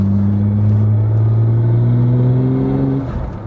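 Inside the cabin of a BMW 1M Coupe, the engine drones loudly and steadily as revs climb, then the sound drops and settles at the end.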